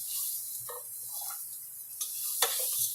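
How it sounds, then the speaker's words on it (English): Garlic and onion sauté in a pan for Spanish rice, a steady close hiss of frying with a few soft stirring clicks and scrapes. "Brown the garlic and the onion."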